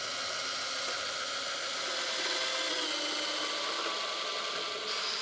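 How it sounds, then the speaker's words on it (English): A whirring drill bores pilot holes into wood with a steady rasping drone, close and continuous, briefly changing pitch near the end. "I'm gonna drill pilot holes about 1 inch down and then put the screws in"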